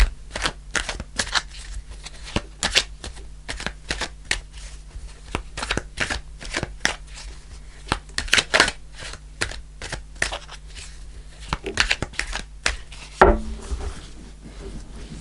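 Tarot card decks shuffled by hand at close range, a long run of crisp riffling bursts and flicks in an irregular rhythm, ending with a soft thump, no talk.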